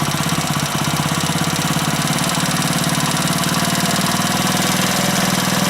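A Honda Splendor motorcycle engine runs close by with a fast, even pulsing throb as its revs climb steadily, loud and alone with no voices.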